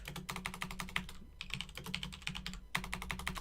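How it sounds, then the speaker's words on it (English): Rapid clicky keystrokes on a computer keyboard, typing in quick bursts with brief pauses, close and fairly clear. "See, what's that typing like?"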